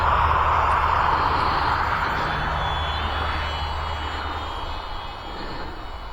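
A HobbyZone Sport Cub S2 radio-controlled plane's electric motor whines at full throttle in high winds, a steady buzzing drone with gusty wind rumble underneath that slowly fades slightly.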